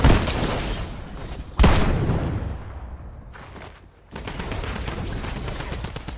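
Bursts of automatic gunfire in the Fortnite video game, loud and dense, with a sharp volley near the start, a brief lull, then sustained rapid shooting to the end.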